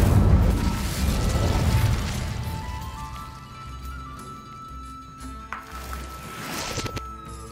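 An Incendio fire spell cast in Hogwarts Legacy bursts out as a loud, booming whoosh of flame that fades over several seconds into a softer crackling tail, with a few small pops near the end.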